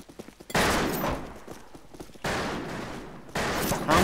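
Gunfire in the Western shooter game Fistful of Frags: three loud, booming shots roughly 1.5 seconds apart, each followed by a long rolling echo, with faint clatter before the first shot.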